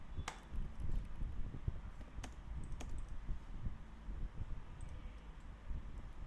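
Computer keyboard typing while entering AutoCAD commands, close and fairly quiet, with irregular clicks and a few sharper key strikes over steady low background noise.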